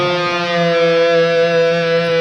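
Guitar through a Valeton GP-200 modeler set to high gain, a single sustained chord ringing steadily and loud with a slightly fuzzy, saturated edge, heard alone.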